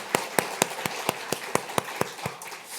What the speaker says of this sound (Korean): 영광의 박수 올렸으면 좋겠습니다